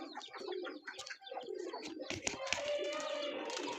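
Pigeons coo softly while feeding among chickens in a backyard coop, their low murmuring calls mixed with rustling, wing flaps and a voice speaking nearby.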